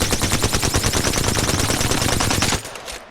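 Alternator submachine gun in Apex Legends firing a long rapid automatic burst of loud, evenly spaced shots that runs about two and a half seconds before cutting off, leaving a faint tail.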